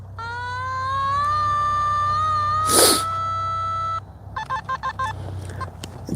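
Metal detector sounding a wavering electronic tone with harmonics during a coin hunt, a sustained note for about four seconds and then a choppy, broken series of beeps, close and without talk.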